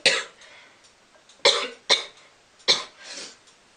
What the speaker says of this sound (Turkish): Şimdi ben öksürüyordum.